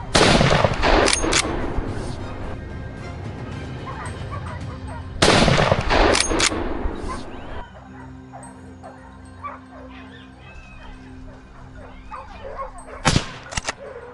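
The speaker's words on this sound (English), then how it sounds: "Less than a minute later, Kay's shot rang out clean and sharp" Sharp rifle shots while hunting wild boar in the Mediterranean hills, a loud close burst early, another around five seconds and a last crack near the end, mixed with dogs barking and yipping.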